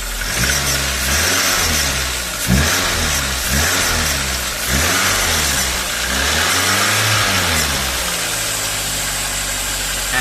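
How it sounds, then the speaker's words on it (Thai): A Toyota Avanza 1.3 engine, just after an alternator bearing replacement, is revved repeatedly in loud close bursts that swell and drop back toward idle, with a steady mechanical hum underneath and no voices. "แต่ผมต้องเร่งอยู่นะ อันนี้เป็นตัวเร่งนะครับ"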